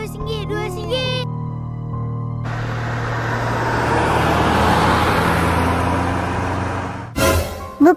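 A van drives along in an Upin & Ipin cartoon scene, a broad engine and road rumble that swells and holds for several seconds after brief chirpy sounds, then cuts off abruptly.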